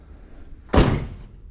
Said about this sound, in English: Door's still shut nice